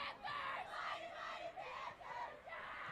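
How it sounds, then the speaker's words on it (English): A home crowd at a men's college soccer match between Chapman and Cal Lutheran cheers after a goal, a sustained distant roar of yelling voices that swells and dips over a few seconds. "We got some cheers coming from the crowd as this home crowd is pumped after that goal."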